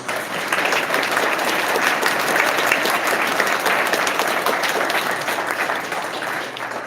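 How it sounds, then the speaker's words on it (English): Sustained applause from an audience at a town hall meeting, steady and full for several seconds before tapering slightly at the end. "We can give them a round of applause."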